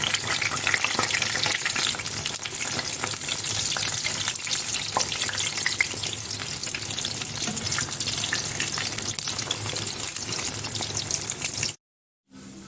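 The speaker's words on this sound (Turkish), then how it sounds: "patlıcanlarımı kontrol edip çeviriyorum ve tamamını bu şekilde kızartıyorum" Steady, dense sizzling of slices frying in hot oil, loud and continuous throughout, with occasional stirring clicks, cutting to silence briefly near the end.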